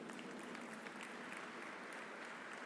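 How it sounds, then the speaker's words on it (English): Sustained audience applause at a university Foundation Day celebration, steady dense clapping from a large crowd, faint and distant, with no voices over it. "a huge, huge round of applause"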